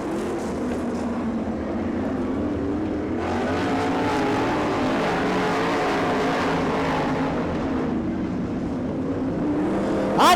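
Race cars roar through the final lap of a heat race, a dense, continuous engine drone that swells from the three-second mark and stays loud throughout, with no talk over it.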